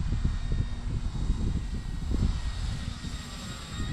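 An E-flite T.T. EvoFun RC plane flies close by in windy conditions, its electric motor and propeller giving a steady, fairly loud buzzing drone with rumbling wind buffeting underneath.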